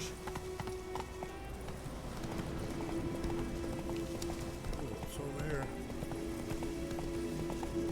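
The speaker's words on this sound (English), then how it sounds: "There's my horse." Hoofbeats of a horse galloping in The Witcher 3 video game, a steady clip-clop running continuously under game ambience, with a short line of speech over it.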